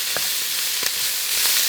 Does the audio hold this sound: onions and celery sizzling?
yes